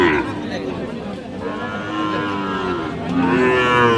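Sahiwal cattle moo loudly and repeatedly at a crowded rural cattle market in Dinajpur, with long lowing calls over a constant murmur of crowd chatter.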